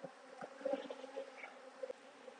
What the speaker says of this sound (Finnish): Tuolla alkaa olla vähän liikaa noita mehiläisiä.